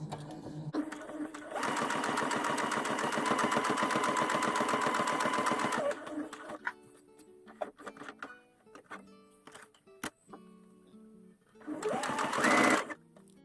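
A sewing machine stitches a fabric seam in a steady, close, mechanical run of about four seconds, then stops for soft clicks and handling before a second short burst of stitching.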